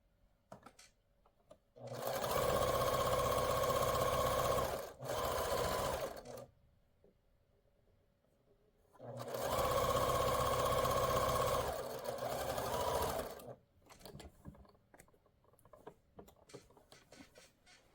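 A sewing machine stitching a quilt block piece runs in two close, loud bursts of steady rapid whirring, each a few seconds long, separated by quiet pauses with faint handling clicks.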